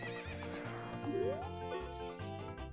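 A horse whinnies in The Legend of Zelda: Ocarina of Time, a single rising neigh near the middle of a steady backdrop of game music, with no talking.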